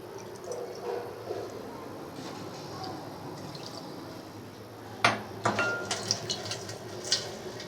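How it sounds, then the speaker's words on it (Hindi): Spiced yogurt masala mix scraped out of a bowl into a cooking pot for aloo dum biryani, with a few light clinks and scrapes of a utensil against the bowl coming late, close by over a quiet kitchen background. "अच्छे तरीके से हम अपना बाउल करेंगे साफ़।"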